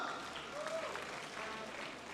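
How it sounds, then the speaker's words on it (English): Audience applause at a university convocation ceremony: a steady patter of many hands clapping in a large hall, fairly distant and moderately quiet, sustained throughout with faint voices mixed in. "Please, can we give him a hand of applause?"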